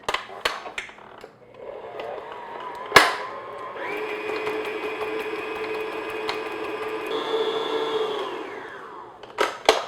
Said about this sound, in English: I'm just going to beat this, medium-low speed until it's nice and smooth